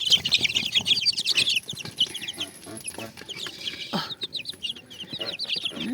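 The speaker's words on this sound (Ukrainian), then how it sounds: "О, дивіться, які півні" Roosters and hens cluck and chatter nearby in quick, uneven bursts, with some brief wing flutters and no talking.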